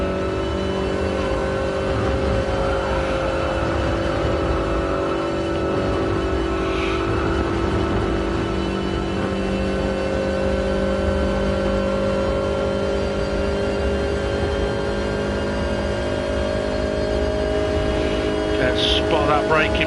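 A Toyota race car at Spa in a racing video game holds a loud, steady engine drone with sustained harmonic whine, running continuously while someone talks over it.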